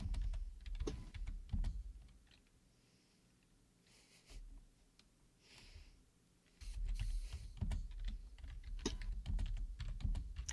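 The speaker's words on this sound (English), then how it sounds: "I hear typing." Keys on a computer keyboard clatter in quick, irregular bursts, loud and close, with a quieter lull partway through before the typing resumes densely.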